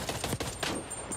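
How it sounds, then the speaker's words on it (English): Gunfire from various guns in the multiplayer game Call of Duty: Black Ops Cold War, a quick burst of several rapid shots heard faintly over a continuous background bed. "it's just nice to kind of hear the gunfire of the various guns again"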